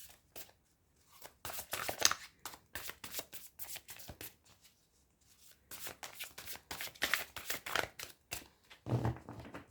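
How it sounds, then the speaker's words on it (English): Tarot cards being shuffled by hand, bursts of riffling and slapping card noise in close, crisp clusters separated by brief pauses, with no talking. "I'll shuffle your cards and then we'll see what messages come for you."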